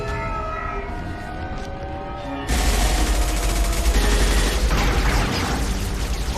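A Mass Effect 2 firefight erupts suddenly after a tense, droning lull: rapid, loud automatic gunfire and blasts roar nonstop over a low rumble.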